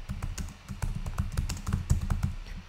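Computer keyboard typed on at a steady, quick pace, a close string of crisp tapping keystrokes with no talk, filling the whole short stretch.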